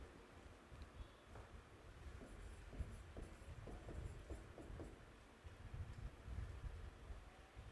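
A pen scratches out notes during a Class 12 chemistry lesson on the solid state, with faint, quiet strokes in short bursts over a soft background hum and no voice.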